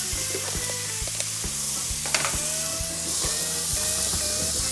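A beef smash burger patty sizzles on a hot griddle, a steady bright crackling hiss that holds for several seconds over a quiet repeating tune in the background.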